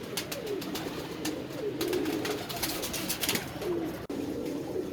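Pigeons coo in soft, repeated rolling phrases close by, with a constant hum of background noise and a faint click near the end.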